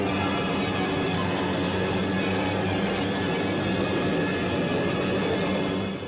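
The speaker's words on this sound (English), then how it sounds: "Bombers bored in." Bomber aircraft flying in to attack in a World War II setting, a loud, steady engine drone that holds unbroken from start to finish.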